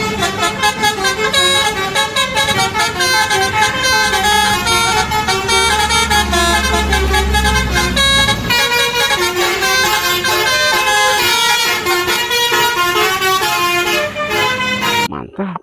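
A PO Haryanto bus sounds its musical 'tolelet' horn in a loud, continuous melodic run of bright, rising and falling tones, with a low rumble underneath, before cutting off near the end.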